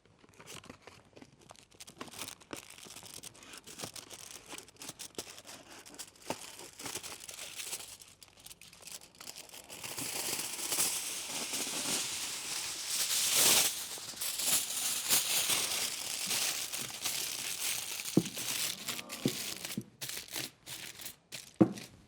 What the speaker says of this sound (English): Start by wrapping the foil around your chosen object until fully covered.